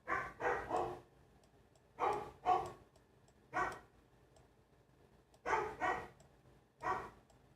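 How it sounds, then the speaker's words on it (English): A dog barks in short bursts of two or three, about eight barks spread unevenly over several seconds, fairly close and loud against a quiet indoor background with no talking. "Dog."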